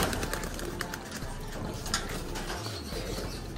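Domestic pigeons in a cemetery, cooing and fluttering amid steady outdoor noise, with a low coo swelling briefly near the end.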